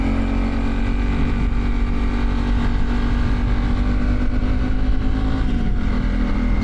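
A motorcycle on a solo trip through the Pyrenees cruises steadily on a road, its engine droning loud and close under heavy wind rush, the pitch dipping slightly near the end.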